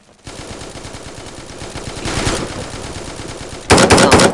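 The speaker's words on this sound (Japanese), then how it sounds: "さりげなく AK 撃っただろ。 私には聞こえてるぞ、銃声が。" Rapid automatic AK rifle fire in the video game Forward Assault rattles on in a steady stream, swelling louder near the end with a sharp, dense burst of shots.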